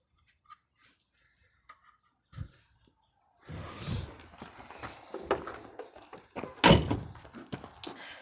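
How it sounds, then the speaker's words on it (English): The stiff door of a 1958 AMC Rambler Super is handled with a few faint clicks, then a stretch of creaking and rattling, and finally one loud, heavy slam near the end. "I'm just gonna try and slam it, and you'll see."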